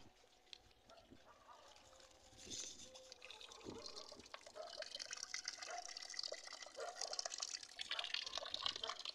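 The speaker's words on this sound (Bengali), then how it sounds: "একটু জল দিয়ে দিই, তারপরে যা হয় হয়।" Garden plants are watered by hand, and the faint trickle and splash of water builds and grows steadier over several seconds at a modest distance.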